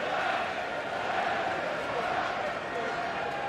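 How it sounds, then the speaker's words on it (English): A stadium crowd at a Leinster versus Edinburgh rugby match lets out a sustained, roaring cheer that stays loud throughout, with a commentator talking over it. "And the crowd responding to."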